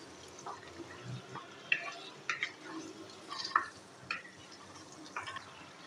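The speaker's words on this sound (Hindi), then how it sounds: "अब हमने इसकी थोड़ी सी भुनाई कर लेनी है।" Chicken pizza karahi being stir-fried in a wok gives a faint, soft sizzle broken by occasional sharp clinks and scrapes of a utensil against the metal, with no speech.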